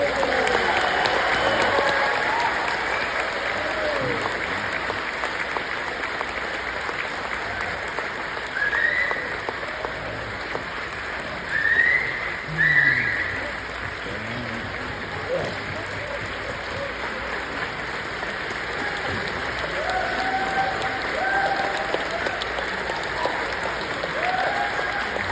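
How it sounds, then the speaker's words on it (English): Audience applause, sustained clapping from a crowd filling the room for the whole stretch, steady and moderately loud with occasional whoops rising above it. "Let's give him a round of applause"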